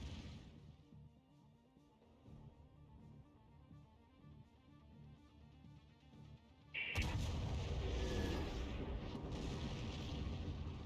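Artillery fires in a tank video game on the Malinovka map: a quiet rumbling engine bed, then one sudden heavy boom that leaves a louder, sustained roar behind it. No voices.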